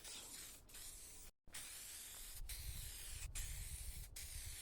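A spray can applies texture paint to a car door panel in steady bursts of close, loud hissing, separated by a few brief pauses and one clear cutoff.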